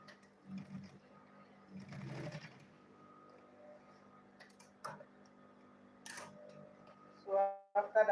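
A sewing machine stitches a lunch bag in short, intermittent bursts of ticking, whirring mechanism, quiet between runs, ending in a louder, faster stretch of stitching.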